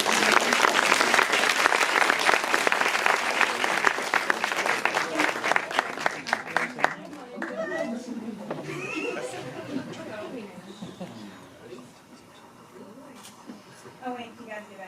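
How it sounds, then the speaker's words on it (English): Loud audience applause and cheering at a horror film festival awards ceremony, dense clapping for about seven seconds that thins out into crowd chatter and voices talking. "So a round of applause for everybody."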